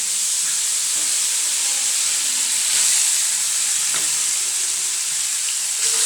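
Nethal (anchovy) frying in hot oil in a home kitchen, a steady bright sizzle and hiss that runs the whole time with occasional soft pops and faint stirring.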